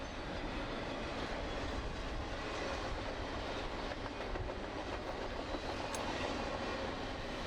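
A Norfolk Southern freight train passes at a moderate distance, its cars rolling by with a continuous rumble and faint rhythmic clickety-clack over the rails, steady throughout.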